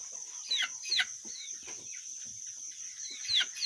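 Several baby chicks and hens of the Thai Pradu Hang Dam/Ko Ngon game-fowl type cluck and peep in short, scattered calls over a steady high hiss, with no talking.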